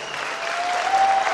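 Audience at a college of education event in Pali clapping loudly to welcome a guest, a steady dense burst of applause from a crowd close by.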